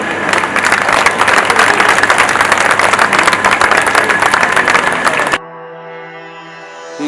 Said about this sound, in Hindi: तालियों के साथ उनका स्वागत करें